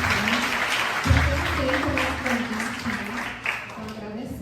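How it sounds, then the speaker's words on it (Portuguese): An audience applauds a retired professor at an inaugural university class, moderate clapping running under a speaker's voice that keeps talking throughout. "queria inclusive aproveitar a oportunidade para também uma salva de palmas para"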